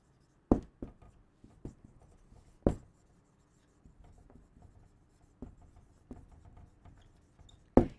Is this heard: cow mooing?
no